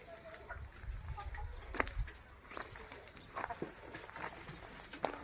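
Native country chickens cluck and call faintly at a distance on an integrated farm, scattered short squawks and clicks over a quiet outdoor background.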